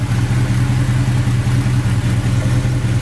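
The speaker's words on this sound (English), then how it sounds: "289 engine runs great." A 1964 Ford Galaxie 500 with a 289 V8, fitted with a new coil and wires, idles steadily nearby with a deep, even low rumble throughout.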